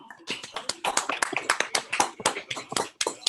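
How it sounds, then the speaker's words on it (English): An online audience claps for a presenter, with several people's applause heard as a dense run of sharp hand claps coming through over a call, steady and fairly close. "Everybody unmute, please, if you can, and give a round of applause for Don."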